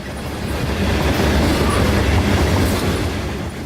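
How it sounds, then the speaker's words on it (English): A southbound empty diammonium phosphate freight train, bound for the Bone Valley, passes close by with loud rattling clickety-clack over the rails in a dense, continuous roar. "Here is a southbound empty diammonium phosphate train heading back to the Bone Valley"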